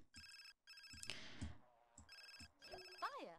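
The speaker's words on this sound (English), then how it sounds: "We're not even listening to the phone ringing." A telephone rings in The Sims 4, set in a 1920s decades challenge, with repeated electronic ring bursts in a steady on-off rhythm, mixed with faint game chatter and chimes.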